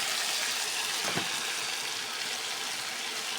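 Ridge gourd, pointed gourd and potato pieces frying in hot oil with cooked spices in a pan, giving a steady loud hiss and sizzle throughout with a brief clatter partway through and no voices.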